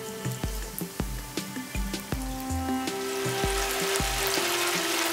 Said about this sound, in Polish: Czas smażenia dobiegł końca.